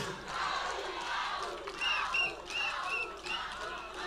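A dense crowd at a Nairobi World Teachers' Day rally roars and cheers for politician Babu Owino, a steady loud wash of voices with shouts rising and swelling throughout.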